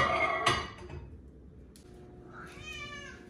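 A small domestic cat meows indoors, one clear meow near the start followed by a softer, rising meow near the end, close by with quiet room noise between.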